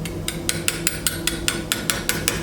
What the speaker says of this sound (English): I'll take a hammer and you can kind of tap it